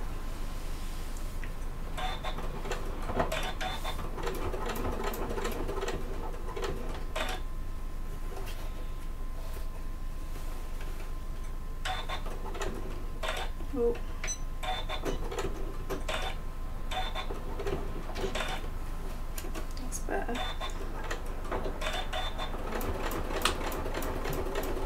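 Short bursts of a sewing machine top stitching a bag handle, quiet rapid stitching starting and stopping several times with pauses between runs, no talking.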